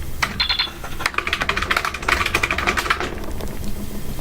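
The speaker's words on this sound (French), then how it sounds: "je fais un bruit comme ça sur le clavier" Fingers rattle rapidly across a computer keyboard during a gaming session, a close, dense burst of clacking keystrokes in quick irregular runs, with no speech over it.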